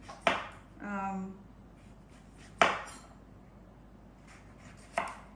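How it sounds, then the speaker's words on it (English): A knife cuts through a lemon on a board in a home kitchen while apple pie is being made: three sharp, close chops spaced a couple of seconds apart, with a short tonal sound in between and quiet room noise. "So what I'm going to do is cut this lemon."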